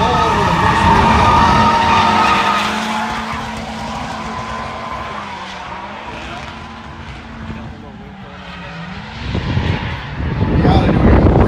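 A Mazda Miata and a Chevrolet Corvette drift side by side on a track, engines roaring and tires squealing loudly through a long transition, with a commentator talking over the din.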